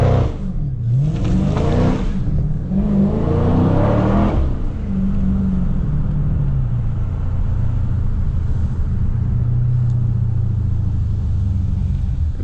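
A Dodge Charger Scat Pack on a rain-soaked road, its engine droning loud and near under light throttle with rising revs early on, then settling into a steady rumbling cruise.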